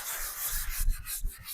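Folded cloth rubbing and wiping along the trim of a 1954 Ford Crestline Victoria, a steady close hiss of friction with a few back-and-forth strokes and no talking.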